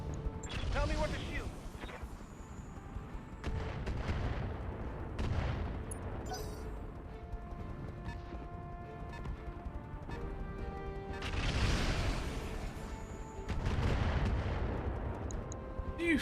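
Rapid missile volley from LRM-10 launchers in Roguetech, a BattleTech mech game, rumbling out in two loud bursts of overlapping blasts and whooshes over steady mechanical background noise, with a voice talking at times.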